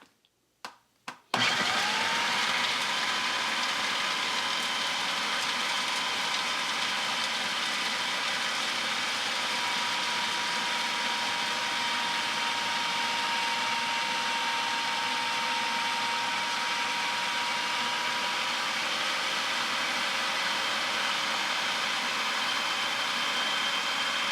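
A blender runs steadily after a couple of quick starting clicks, whirring loud and continuous as it purees basil leaves with oil and other ingredients into a paste, with a faint steady whine over the motor drone.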